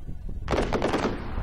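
Gunfire in the video game ArmA 3 breaks out suddenly after a quiet moment: a loud, rapid burst of automatic shots that rattles for about a second before its echo fades.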